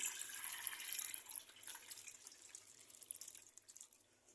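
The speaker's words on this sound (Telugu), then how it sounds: "ఇప్పుడు అదే బౌల్లో కొన్ని కూల్ వాటర్ వేసుకోవాలి." Cool water trickles into a kitchen bowl during kofta preparation, a faint, soft pouring splash that thins out and fades toward the end.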